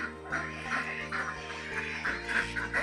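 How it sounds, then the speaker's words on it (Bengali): Ducks kept at a mill quack in quick repeated calls at moderate distance over a steady low mechanical hum, with no talking. "এই মিলেরই সব হাঁস এগুলো এই হাঁস পুষে আছে"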